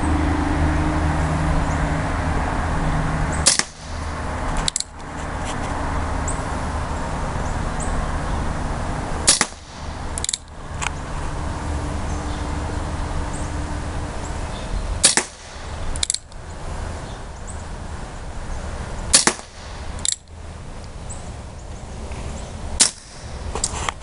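Single-action Remington Model 1875 revolver firing wadcutter rounds outdoors on a range: six sharp shots at a slow, irregular pace, loud and close over a constant rumble of wind or distant traffic, with no talking.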